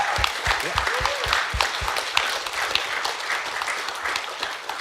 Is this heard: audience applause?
yes